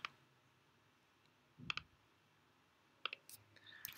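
Sharp mouse clicks on a preview button, several crisp double taps spread out over a few seconds in a quiet room.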